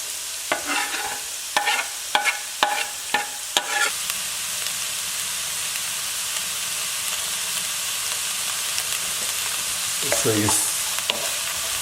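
Celery, onions and carrots sauté in a pan, giving a steady close sizzle throughout, with a handful of clattering stirs at the start and another stir near the end.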